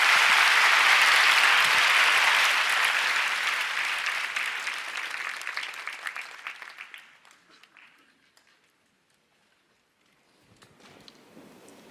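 A church congregation gives loud, dense applause to welcome a missionary, sustained for several seconds before gradually thinning into scattered claps and fading to near silence.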